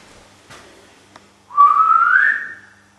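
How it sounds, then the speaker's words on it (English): A single clear whistle rises in pitch for about a second inside a quiet underground nuclear bunker, after two faint knocks, with no talking over it. "Can you whistle?"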